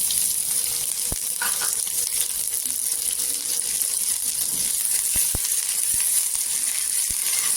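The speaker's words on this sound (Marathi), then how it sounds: "इथे मिरची टाकायची तव्यामध्ये" Green chillies fry in hot oil on a tawa for a peanut chutney, making a loud, continuous close sizzle with a few sharp pops and clicks scattered through it.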